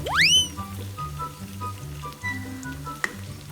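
Omelette frying in a pan, a steady close sizzle under quiet background music, with a rising whoosh at the start and a sharp clink near the end.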